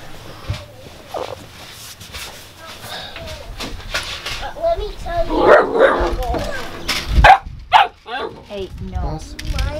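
A dog barks and yips intermittently indoors while people talk over it, the barks mixed into breakfast-time chatter.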